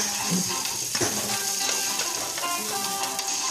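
Onions frying and being stirred in a pan for beef caldereta, with a steady close sizzle and light scraping and clinking of a utensil against the pan.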